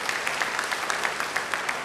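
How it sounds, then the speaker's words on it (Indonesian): Church congregation applauding during a sermon, a moderately loud burst of many hands clapping with a rhythmic, slightly uneven patter throughout. "Beri tepuk tangan yang baik bagi dia."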